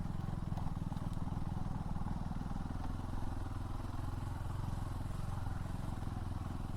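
Motorcycle engine running steadily during a group long-distance ride, a low continuous drone heard at moderate distance with faint road noise and no clear speech.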